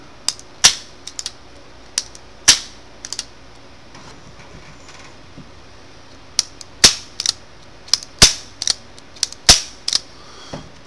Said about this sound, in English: That's the trigger pull in double action